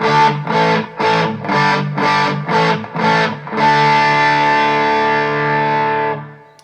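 A distorted guitar plays through a Radial North Star preamp set to its high switch position, with seven rhythmic pulsed chords and then one long sustained ringing chord that fades out, loud, close and bright.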